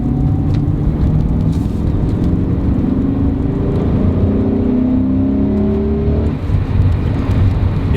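BMW E39 M5 on a country road, its engine droning loud and steady as the car pulls hard under sustained acceleration, rising engine tones rolling on throughout with no talk.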